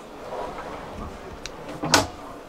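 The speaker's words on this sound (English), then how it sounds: "Drawers," Drawers in a 2024 Hotomobil Reviva luxury campervan slide along their runners, ending in a short, sharp close near the end over a quiet room background.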